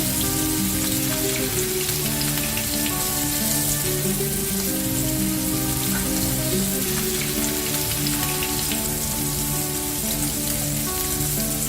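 Kingfish (ayakora) fries in hot oil after being flipped, a loud, close, continuous crackling sizzle that sounds like heavy rain and holds steady throughout.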